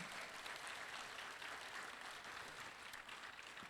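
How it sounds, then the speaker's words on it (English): Round of applause from the audience at a plenary session of a marine science symposium, steady dense clapping from many hands heard from a distance, even and sustained throughout. "Another round of applause for Professor."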